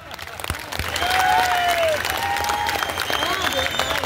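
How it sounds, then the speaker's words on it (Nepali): Audience applause at a Gorkha Janmukti Morcha foundation day gathering in Darjeeling: a steady, dense clapping crowd with scattered whistles rising over it, sustained throughout. "ताली लाउने त"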